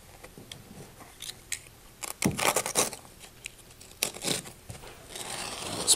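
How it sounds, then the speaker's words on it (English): A sharp knife slices through carpet in short bursts of tearing and ripping, close and fairly loud, separated by quieter scuffing pauses, with no speech. "take a sharp knife and decide where you're gonna cut"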